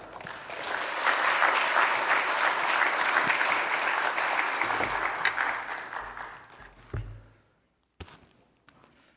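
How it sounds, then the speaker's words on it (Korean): A church audience applauds steadily for several seconds to welcome a pastor, then the clapping thins out and fades, leaving a few footsteps and thumps. "귀한 목사님 나오실 때 박수로 함께 맞이해 주시기 바랍니다"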